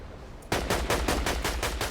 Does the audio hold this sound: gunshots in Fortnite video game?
yes